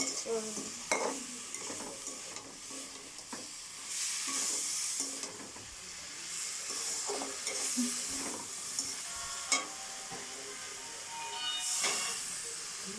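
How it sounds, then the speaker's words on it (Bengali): Fried fish bones are stirred in a pan after a splash of water is added, with a steady sizzling hiss and steam under repeated scraping strokes of a utensil, close and fairly loud. "হালকা একটু জল দিয়ে দিলাম, দিয়ে ভালো করে নাড়তে হবে।"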